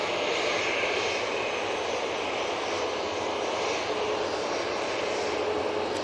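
A Ryanair airliner taxis at Manchester Airport, its engines giving a loud, continuous roar and whine that holds steady throughout with no voices.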